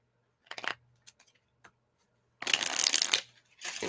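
Playing cards are shuffled up close: a few light flicks and taps, then a quick riffling burst, followed by another short riffle.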